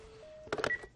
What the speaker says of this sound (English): Phone's dead.